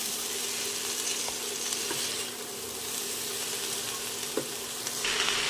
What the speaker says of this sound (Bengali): এবারে ভালো করে নাড়িয়ে মশলাটা মিশিয়ে নিতে হবে।